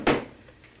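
A desk drawer is pulled open or shut with one short wooden thump and slide near the start, followed by quiet room tone.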